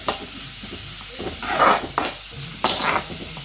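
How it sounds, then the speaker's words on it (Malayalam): Onion sautéing in coconut oil, with a steady sizzle and loud scraping stirs that surge in bursts near the end, close by with no talking. "അതിലേക്ക് ഈ ഉള്ളി ഇട്ട് നല്ലോണം വഴറ്റിയെടുക്കണം"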